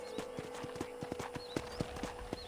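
Horse hooves clip-clopping at an even walking pace in the Western video game Red Dead Redemption, soft and moderately close over a faint steady background hum.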